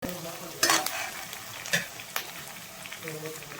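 Curry leaves drop into hot oil for a fish curry and crackle in a sharp burst, followed by lighter sizzling and a few stirring clinks from the pan.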